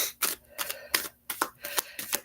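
Oracle cards are shuffled by hand in a series of about six crisp, papery bursts spaced at a loose, regular rhythm, close and clear with quiet gaps between.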